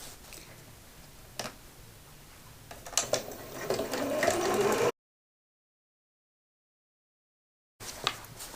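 A sewing machine stitching along the side seam of a fabric divided caddy, a quiet rapid mechanical ticking that builds in speed, stops during a stretch of silence, then briefly resumes.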